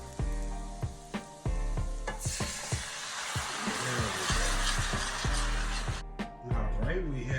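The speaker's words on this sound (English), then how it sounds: "We're going to deglaze it with our heavy cream" Heavy cream poured into a hot pan used for Cajun shrimp erupts into a loud, steady sizzle after a few scraping clanks, then cuts off abruptly near the end.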